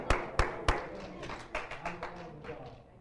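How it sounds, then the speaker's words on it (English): Congregation clapping hands at a church service at New Beginning Worship Center in Greenback, Tennessee: three sharp, loud claps open, followed by a looser, fading patter of scattered claps. "let's give him a hand clap"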